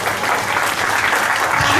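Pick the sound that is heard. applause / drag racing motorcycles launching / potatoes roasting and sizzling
applause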